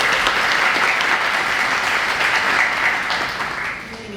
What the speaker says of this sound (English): Can we do a round of applause, please?